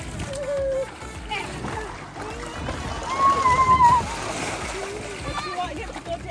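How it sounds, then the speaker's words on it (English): Someone jumps into water at an outdoor family gathering, making splashes and sloshing churn up close, with voices talking and calling over the water throughout. "finally jumping in the water now that the kids are gone and not around"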